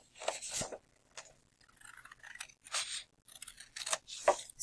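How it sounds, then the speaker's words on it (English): Scissors snip repeatedly through paper up close, a series of crisp cutting strokes with short pauses between them, no voices. "I'm going to take my scissors and I am going to cut along my line or my fold"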